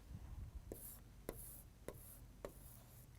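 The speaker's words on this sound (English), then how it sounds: "Let's write this down." A pen scratches on paper in a few short, separate strokes, quiet and close, with soft handling noise before the writing begins.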